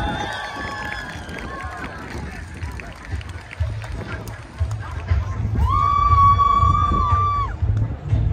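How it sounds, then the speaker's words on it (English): A circus crowd at an outdoor fair cheers, shouts and claps for a trapeze act, a loose, lively roar of voices that swells midway while children shout and a whistle-like tone rings out above it. "let's have a giant big round of applause for Lisa on trapeze!"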